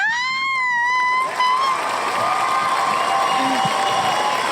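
A canned cheering crowd effect plays during a podcast, opening with a shrill whistle and then settling into a loud, steady roar of cheers and applause.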